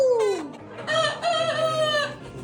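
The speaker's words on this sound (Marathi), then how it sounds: "आवाज दे कोंबड्यांचा." Village poultry in a rural Konkan yard: a rooster lets out a loud, close crow with clucking hens around it, one drawn-out call rising and holding before fading.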